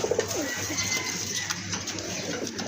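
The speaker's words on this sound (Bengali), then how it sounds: "এটাও কিন্তু ভালো মানের এক জোড়া কবুতর, এটার দাম থাকবে একদম 3000 টাকা।" A pair of pigeons coos in soft, repeated low calls over a continuous background hiss, with no talking.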